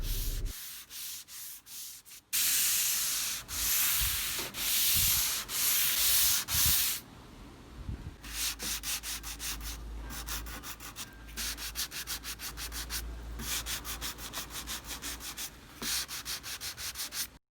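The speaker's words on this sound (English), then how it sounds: "This is just a light sanding. I don't push too hard on the sanding block." Steady scratchy rubbing of a fine sanding block lightly sanding the wood of an antique dresser, in repeated back-and-forth strokes with short pauses between passes.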